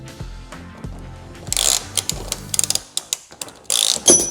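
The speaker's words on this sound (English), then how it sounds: "I'm gonna fully tighten this driver's side door" A ratchet wrench clicks rapidly while tightening a bolt on the driver's side door of a RAM ProMaster City van, bursts of metallic ratcheting broken by short pauses and a few sharp clanks, close to the microphone.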